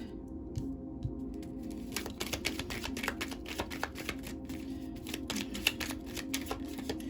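Tarot cards shuffled continuously by hand, a close, steady riffling patter of many quick flicks running the whole time with no talking.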